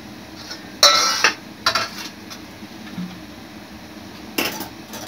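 Spoon scraping and clattering against a pan while coriander leaves are mixed into an oily dish, a few loud metallic bursts with quieter gaps between them.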